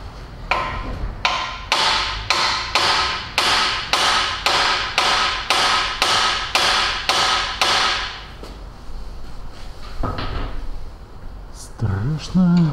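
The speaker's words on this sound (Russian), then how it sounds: "Беру молоток." A hammer strikes metal while lower ball joints are replaced on a 2007 Ford Ranger 2.5 Turbo. About a dozen loud, close, evenly spaced blows ring out in a steady rhythm, followed by quieter clatter.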